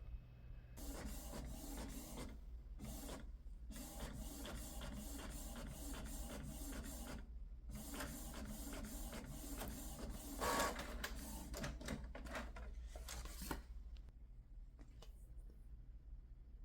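A Cricut cutting machine works on stickers with a continuous mechanical whir and rapid carriage movements, broken by brief pauses and shifts in pitch, heard quietly and close.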